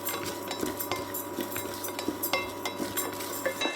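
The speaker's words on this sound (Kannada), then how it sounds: "ಇದೆಲ್ಲ ನಿಧಾನಕ್ಕೆ ಫ್ರೈ ಮಾಡ್ಕೊತಾ ಇದ್ದೀನಿ." Almonds, makhana and poha dry-roasted slowly in a pan for homemade cerelac, with steady scraping and light metallic clinks of a spatula against the pan repeating throughout, close up and without speech.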